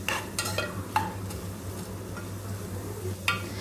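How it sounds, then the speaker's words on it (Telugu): Fenugreek leaves and onions fry in a pan, a quiet sizzle over a low steady hum, with a few light spatula scrapes and taps against the pan and no talking. "ఆ మెంతాకు తీసుకొని అందులోకి వేసుకోవాలి. ఆనియన్స్ వేగిన తర్వాత ఫ్రై చేసుకోవాలి మంచిగా."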